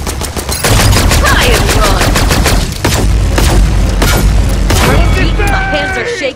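Rapid bursts of automatic gunfire and booming shots ring out on a Paladins shooting range, loud and dense, with gaps between volleys and a low rumble underneath.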